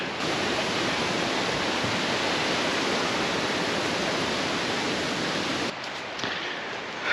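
Brook in Padley Gorge, Peak District, rushing steadily as a dense, broadband wash of flowing water, loud and continuous, easing slightly near the end.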